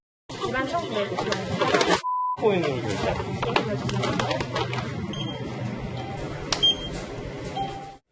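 A short checkout beep sounds at a convenience store counter as a phone is held to a barcode reader to pay with cryptocurrency. A steady tone rings out alone amid store bustle, followed by fainter beeps.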